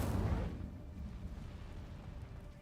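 Incendio fire spell cast in Hogwarts Legacy: a single loud whooshing burst at the start that fades into a low, rumbling fiery roar.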